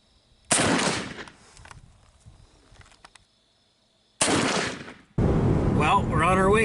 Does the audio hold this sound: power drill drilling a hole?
no